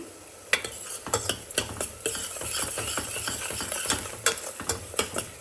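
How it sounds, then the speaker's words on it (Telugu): Onions are stirred in a pan with salt and turmeric for a mutton and sword bean curry, the utensil scraping and clinking in irregular strokes over a soft background sizzle, close and clear with no talking. "ఉప్పు, పసుపు వేసేసి ఇవన్నీ బాగా కలిపేసుకోవాలి ఉల్లిపాయలని"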